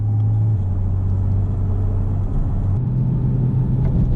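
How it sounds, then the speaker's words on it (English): From inside a 718 Porsche Boxster Spyder RS with the soft top, the engine and intake behind the seats give a steady, loud, close rumbling drone that shifts pitch slightly midway as it pulls along. "You can hear the intake better behind your head."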